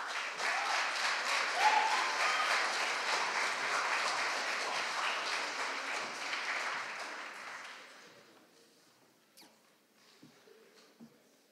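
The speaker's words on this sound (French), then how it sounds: "on peut l'applaudir à nouveau" An audience applauds a speaker at a public-speaking contest final, with dense, sustained clapping in a hall that thins out and fades to a few scattered claps near the end.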